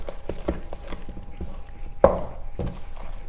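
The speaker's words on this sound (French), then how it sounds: "On mélange une dernière fois" Almond batter for a Bakewell tart mixed in a bowl: a run of irregular knocks and taps from the utensil against the bowl, with one sharper thunk partway through, close and fairly quiet.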